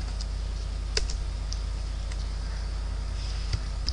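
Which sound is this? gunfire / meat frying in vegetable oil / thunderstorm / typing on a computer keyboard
typing on a computer keyboard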